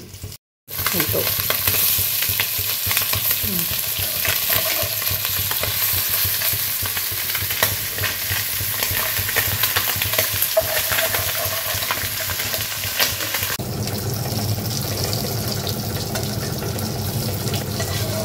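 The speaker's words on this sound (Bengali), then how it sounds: "এবারে মাছগুলো একটা একটা করে প্রথমে ভেজে নিতে হবে।" Amodi fish fries steadily in hot oil, a loud continuous frying hiss that runs throughout with occasional stirring sounds and no speech.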